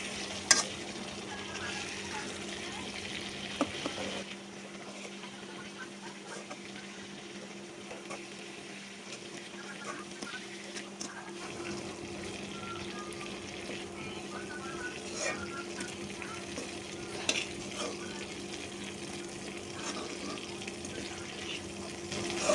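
Fish pieces fry in a spiced masala in a pan, with a soft, steady sizzle and intermittent scraping as they are stirred and lifted out, fairly quiet and close with no talking.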